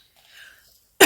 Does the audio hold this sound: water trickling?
no